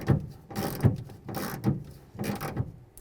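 Nuts are snugged up on the outer door handle of a 2006-10 Ford Explorer, with a rhythmic series of ratcheting clicks, close and fairly loud, repeating about five times.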